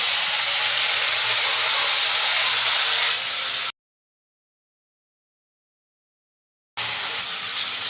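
Fish sizzling in hot oil in a pan, a steady loud broadband hiss that runs unbroken, cuts out completely for a few seconds, then resumes at the same level.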